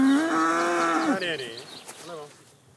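A cow on a farm gives one long, loud, close moo that drops and fades out, followed by softer trailing lowing.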